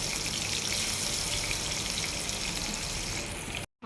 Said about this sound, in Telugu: మంచిగా ఒక గోల్డెన్ బ్రౌన్ వచ్చేంత వరకు మనం కొంచెం డీప్ ఫ్రై చేసుకుందాం ఆనియన్స్ని